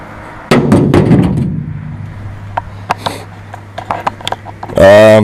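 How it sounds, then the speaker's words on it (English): A brick lands with a loud thud and rattle in a pickup truck bed coated with a couple of thin coats of Rust-Oleum bed liner, followed by scattered small taps and scrapes, and a voice speaks at the end. "I got a brick here. I'm just gonna toss it in there and see how it holds up."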